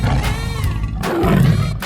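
A tiger roars in a 3D animal sliding video game, a loud growling roar that rises in the second half over dense game music and sound effects.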